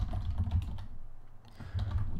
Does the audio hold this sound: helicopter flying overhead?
no